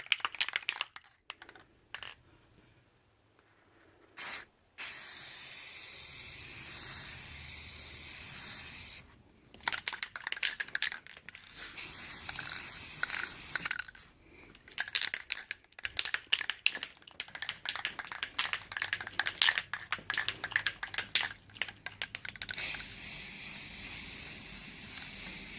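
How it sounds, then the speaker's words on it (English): Spray paint hisses from a rattle can in bursts of varying length, separated by short silent gaps, close and fairly loud with no talking. "I'm just going to use a rattle can of paint to spray paint it."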